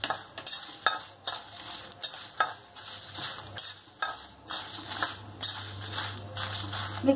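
Sesame seeds roast in a pan while a spoon stirs them, giving rhythmic scraping strokes roughly every half second over a soft dry sizzle, close by with a low hum underneath.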